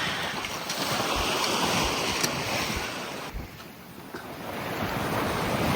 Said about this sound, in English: It seemed like every hour the swells continued to increase in size.